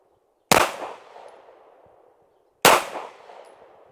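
Two sharp gunshots from a PX-9 pistol firing 124-grain S&B rounds at an outdoor range, about two seconds apart, each a loud crack followed by a fading echo, with no talking.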